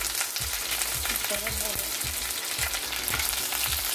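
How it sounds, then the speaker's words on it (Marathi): Mustard seeds and curry leaves tempering in hot oil for sandwich dhokla, a dense loud sizzle with steady crackle and a few sharp scraping stirs of a spoon at regular intervals; nobody speaks. "कढीपत्ता अवश्य घालावा फोडणीमध्ये"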